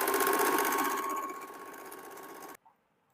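A sewing machine stitches a blouse seam with a fast, steady mechanical whir that slows slightly and then cuts off abruptly, followed by a small click, close by with no talking.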